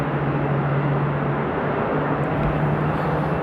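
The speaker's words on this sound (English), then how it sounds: "Both 777 starting up right now." Boeing 777 jet engines start up at Amsterdam airport, heard as a loud, steady broadband roar with a low droning tone, continuous and distant-to-mid range throughout.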